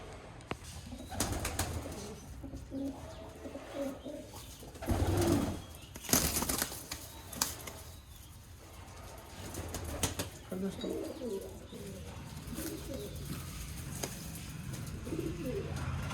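Pigeons newly moved into a cage coo repeatedly at close range, with a few soft wing flutters and some handling noise mixed in.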